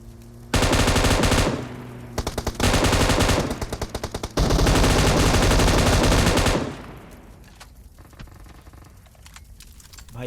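Loud bursts of rapid automatic M249 machine gun fire in PUBG Mobile game audio, several long sustained volleys separated by brief pauses, then fading to quieter background sounds.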